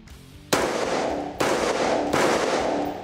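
Three loud rifle shots fired from a braced position behind a vehicle, each a sharp crack with a long ringing decay, spaced roughly a second apart.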